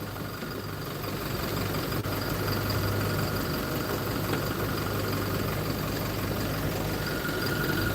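A car engine idles steadily after a smooth start, a constant low rumble with a faint mechanical hum, moderately distant and unchanging, with no one speaking.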